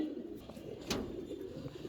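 Huma pigeons and larger pigeons kept together in a cage coo softly and continuously at close range, a low rolling murmur with no voices.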